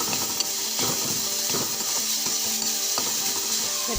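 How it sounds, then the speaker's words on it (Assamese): Ground ginger and garlic paste fries over low heat in a pan, giving a steady broad sizzle with repeated scraping stir strokes at a fairly even rhythm, close and continuous. "জুইটো একেবাৰে কমাই ভাজি আছোঁ এইখিনি ৰঙা হোৱালৈকে"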